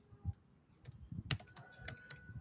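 Typing on a computer keyboard while Java code is written, giving a few scattered, moderately loud keystrokes in short bursts against a quiet background.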